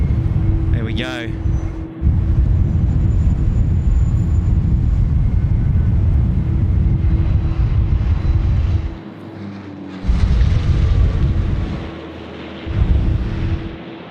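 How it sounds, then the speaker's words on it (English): A Rex regional airliner on final approach at Sydney Airport on a windy day, a loud continuous engine roar with a steady tonal whine that holds for about nine seconds, dips briefly, then swells again in bursts. "We've got a Rex now coming in on final"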